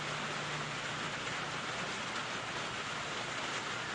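Steady rain falls outside a home, a dense, even hiss of drops with no breaks and no voices, moderately loud and unchanging throughout.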